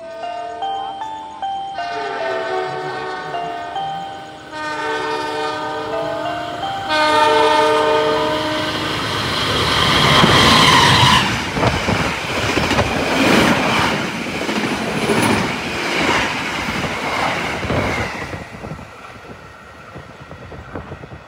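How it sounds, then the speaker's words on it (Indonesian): A passenger train locomotive on the Bandung to East Java line sounds several long horn blasts at night, then roars past loud and close with heavy rumbling and rhythmic wheel clatter that slowly fades. "Terus tiba-tiba ada suara kereta, deru lokomotifnya kenceng banget."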